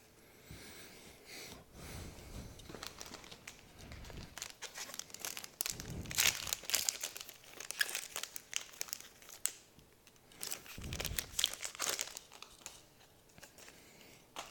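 Plastic and foil packaging from Star Wars Destiny booster packs crinkles and tears in repeated bursts, close and fairly quiet, with pauses between handling.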